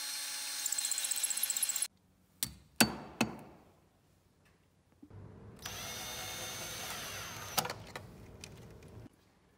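A power drill bores holes in a wall to mount a salt-free EcoCrystal 2 anti-scale unit panel: one steady high whine for about two seconds, a few sharp knocks, then a longer loud drilling run, all close and without talk.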